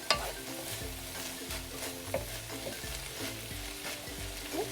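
Vegetables frying in a pan for fried rice give a continuous low sizzle, with regular spatula strokes knocking and scraping across the pan, close and quiet, and nobody speaking.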